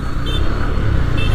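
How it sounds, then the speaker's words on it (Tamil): Heavy road traffic in Pondicherry makes a steady, close rumble of car and vehicle engines that runs unbroken throughout, with no clear voices. "செம்ம டிராஃபிக்குங்க பாண்டியில்."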